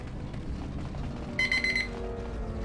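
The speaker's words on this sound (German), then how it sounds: "Gleich klingt der Wecker." Alarm clock ringing in a Star Wars KOTOR 2 game scene, a short electronic beeping burst of about half a second rising out of low background ambience and music.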